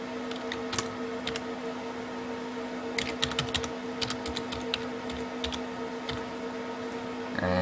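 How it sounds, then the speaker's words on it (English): Rapid, uneven clicking of computer keys typing in a username on a Windows Server 2008 R2 Enterprise Remote Desktop login, with clusters of taps over a steady low hum and no talking. "type in the username,"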